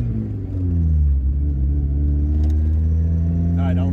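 A manual-transmission car engine pulls hard in second gear on a street, a loud, close, low rumble whose pitch climbs steadily as it accelerates, with a brief voice near the end.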